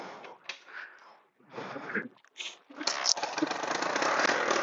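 A cold motorcycle engine struggles to start, coughing in several short, uneven bursts separated by gaps before catching into a rougher continuous running noise, heard at moderate distance.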